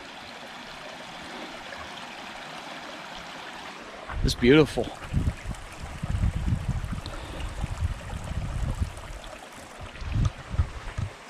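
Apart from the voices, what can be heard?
stream at the water source on the trail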